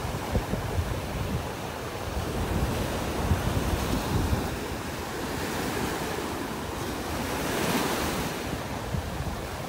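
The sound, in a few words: ocean waves breaking on a beach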